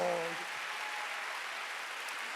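Church congregation clapping hands at a Wednesday worship service, a steady wash of applause at moderate level after a brief voice at the start.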